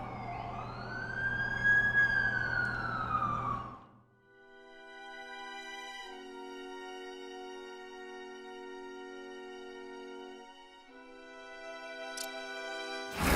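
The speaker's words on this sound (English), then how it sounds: "That's the ambulance I called." An ambulance siren in the video game The Amazing Spider-Man 2, first a loud wailing rise over rumbling noise, then a steadier multi-tone electronic siren holding for several seconds and fading slightly, no voices.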